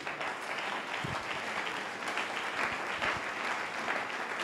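A church congregation applauds steadily, a dense wash of clapping that holds at even volume throughout with a few louder claps standing out.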